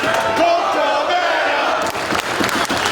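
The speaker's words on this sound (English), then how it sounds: "Now mocking the fans as they cheer for Cabana, who's back on his feet." A loud arena crowd at the ROH Supercard of Honor IV wrestling event in Houston cheers and roars continuously, a dense wall of voices that swells early and then rumbles on.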